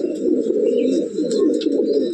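Cooing of a prized short-beaked domestic pigeon, a steady close murmur of overlapping low coos running throughout with faint chirps above.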